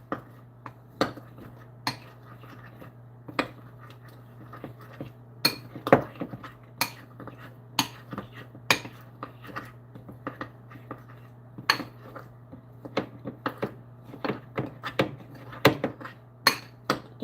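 A utensil clinks and scrapes against a bowl while thick chocolate candy is mixed, giving uneven, fairly quick knocks over a steady low hum, with no talking.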